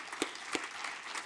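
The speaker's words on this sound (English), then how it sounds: "Let's give them a big round of applause here" A crowd at the Greensboro housing summit claps in a short, dense burst of applause, with a couple of louder individual claps standing out.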